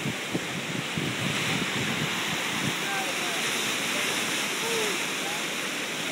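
Flooded stream during Hurricane Irene in a New Jersey park, running high and raging where it is usually only a few inches deep. A steady, loud broadband roar of rushing water with wind buffeting the microphone throughout.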